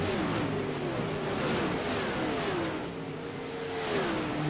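Several dirt race cars in a racing video game drone and whine continuously, rising and falling in pitch as they circle, somewhat distant and uniform in loudness.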